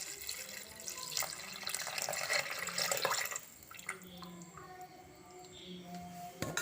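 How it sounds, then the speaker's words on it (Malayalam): Coconut milk from one coconut pours into a fish curry of anchovy-type fish, giving a steady watery splashing that fades after a few seconds, followed by faint drips and quieter kitchen clatter. "അപ്പോൾ ഇതിലേക്ക് ഇനി നാളികേരപ്പാൽ വെച്ച് കൊടുക്കാം."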